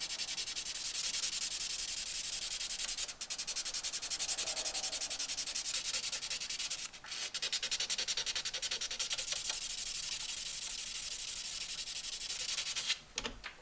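A knife blade clamped down and sanded by hand with 320-grit sandpaper during a knife repair: steady, close back-and-forth rubbing strokes with a few brief pauses, no voices.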